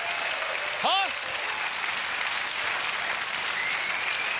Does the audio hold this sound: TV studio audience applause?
yes